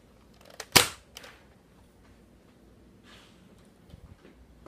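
A Nerf gun firing a thumb tack into an old cabinet gives one sharp, loud snap followed by a softer knock, then quiet room noise with a faint rustle.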